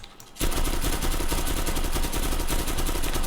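The SDG gun fires in a video game shooter, a loud, sustained rapid-fire burst of shots beginning after a brief quiet moment and continuing without pause to the end.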